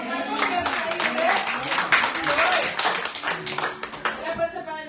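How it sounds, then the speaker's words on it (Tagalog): A church congregation claps together in a dense, sustained burst of many hands, loud and close for nearly five seconds before thinning out at the end, with voices mixed in. "Palakpak na po, meron maiuwi?"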